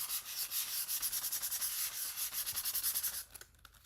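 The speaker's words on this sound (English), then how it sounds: "I'm going to give it a quick sand, because I want it to smooth it out in between" Sandpaper rubs quickly back and forth over a painted ornament, a close, steady rasping rhythm that stops near the end, leaving a couple of light taps.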